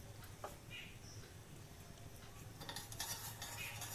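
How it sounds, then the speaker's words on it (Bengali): Mixed fruit chutney is stirred in a pan, giving soft scraping and clinking of a utensil against the pan over a faint low simmer, quiet and close, with no talking. "যতক্ষণ না ঘন হয় ততক্ষণ নেড়ে যেতে হবে।"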